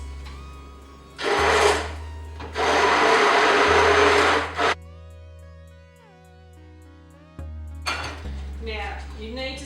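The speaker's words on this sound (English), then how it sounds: "just get your stick blender and give it a whiz." A stick blender whirs through green pea soup made with onion and frozen peas, running in two loud bursts separated by a short pause, with quieter kitchen sounds and clatter after it stops.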